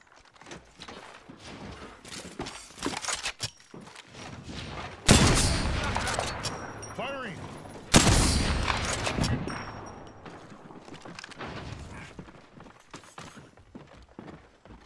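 Bursts of gunfire ring out in the Apex Legends video game, starting as scattered shots and growing into two loud volleys that decay slowly, with footsteps and movement sounds between them.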